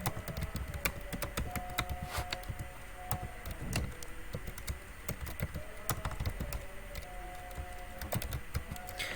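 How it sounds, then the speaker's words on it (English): Fingers tap out rapid, uneven keystrokes on a computer keyboard, close and clear, with short bursts and pauses of clicking continuing throughout and no one talking. "you will type your email ID"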